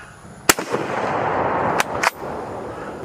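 A 91/24 Carcano 6.5 rifle fires with a sharp, loud report near the half-second mark, followed by two more short sharp cracks over a steady background rush outdoors.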